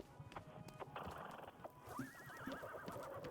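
Horse neighing in the video game Wanderstop, a clear quavering whinny rising and trembling for over a second, amid clip-clop hooves and light mechanical clicks.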